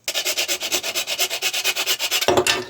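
A Dremel rotary tool grinds on a Dalek model in close, loud, rhythmic rasping strokes about ten per second, a harsh abrasive buzz that shifts briefly in tone at the end.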